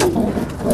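French meat squab pigeons at a loft coo in a short, soft, low burble, close and steady with no talk over it.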